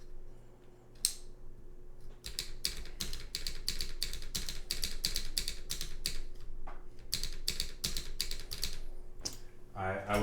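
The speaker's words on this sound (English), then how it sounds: "If someone asked me which keyboard is perfect in both looks and sound, I'd probably say this one." Someone types on a blue TGR x SM Shi VA mechanical keyboard, giving rapid clusters of crisp clacky keystrokes with brief pauses, close and clear, while a voice talks quietly in the background.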